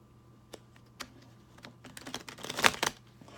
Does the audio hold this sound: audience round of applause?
no